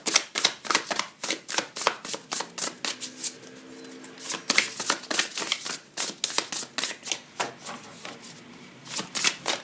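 Tarot cards shuffled by hand during a reading, a long run of crisp, rapid riffling flutters and snaps coming in quick bursts with brief pauses, close and clear, with no voice over them.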